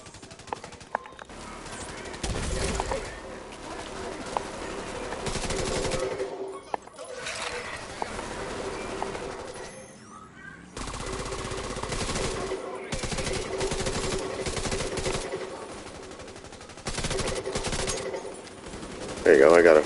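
Rapid bursts of automatic gunfire from The Division 2 on PS5, loud and close, coming in repeated volleys separated by short pauses, with brief quieter gaps and a sharp final burst.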